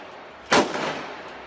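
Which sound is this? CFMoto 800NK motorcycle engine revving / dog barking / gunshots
gunshots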